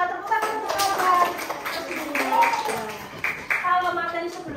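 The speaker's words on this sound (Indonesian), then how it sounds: "Ya, betul semua, tepuk tangan untuk kawan." Classroom applause for classmates: scattered hand claps patter alongside children's excited voices, close and lively, over a few seconds.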